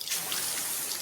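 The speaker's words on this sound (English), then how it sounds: "When this is the sound of a waterfall in nature, there's no cause for concern." A waterfall in nature gives a dense, steady, broadband rush of falling water, loud and continuous without pause for the whole moment, with no voices.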